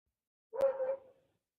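A dog barks once outdoors after two weeks of bed rest, a single short, clear bark that trails off quickly, with silence before and after.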